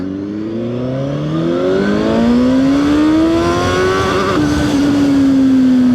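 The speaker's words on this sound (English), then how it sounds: "I feel like we'll just give it some gas." A CFMOTO 750SR-S motorcycle accelerates hard through first gear, the engine note climbing steadily in pitch, loud and close and building to a sustained high rev with no talk.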